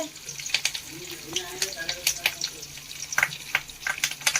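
Dry red chillies and curry leaves frying in oil with urad and chana dal for puliyogare, a close crackling sizzle with sharp pops and stirring scrapes throughout.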